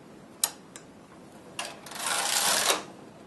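A domestic knitting machine knitting an entrelac tote, its carriage pushed from right to left: a few sharp clicks, then a rising, rattling mechanical sweep that swells for about a second and stops abruptly, close and fairly quiet.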